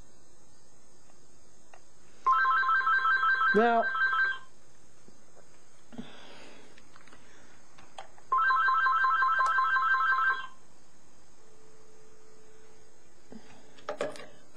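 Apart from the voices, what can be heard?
telephone ringing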